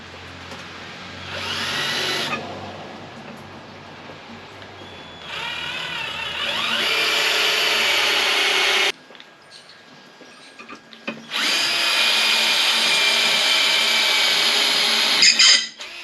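A power drill bores into a universal cafe racer hump seat for a Suzuki GS500 motorcycle, whining in three long loud bursts with short quieter pauses between them and no talking.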